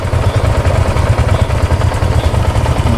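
A Yamaha Aerox scooter engine runs at idle close by, with a steady low, pulsing putter that stays even and loud throughout, and no talk over it.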